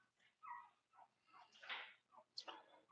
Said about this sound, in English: Sounded like my old country dog.